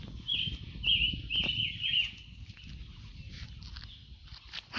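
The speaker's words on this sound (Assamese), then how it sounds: "চৰাইৰ আৱাজটো শুনিছেনে ইমান ধুনীয়া ভাল লাগে" Birds chirp and sing in a natural outdoor setting near Parshuram Kund, with short high twittering bursts over faint rustling and footstep-like noise, fairly quiet and close.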